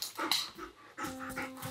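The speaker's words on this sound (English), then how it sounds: "Don't bark at the kitties." A dog barks a few times in quick bursts, close by, with a whiny, yelping edge between barks.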